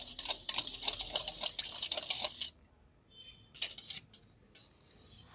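Eggless zebra cake batter being whisked briskly in a bowl: rapid, rhythmic scraping strokes, close and fairly loud, pausing briefly midway before a short burst resumes.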